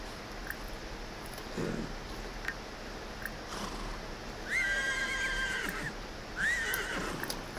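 A horse in The Sims video game neighs twice, each whinny bright and shrill, above soft clip-clop and busy game background sounds.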